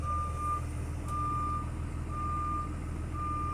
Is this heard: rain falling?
no